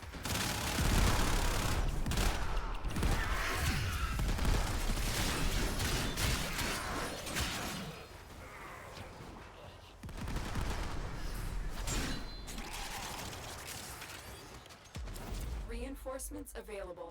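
Rapid gunfire from the Warframe video game, bursts of fast shots running through most of the stretch alongside game effects, with players talking over it.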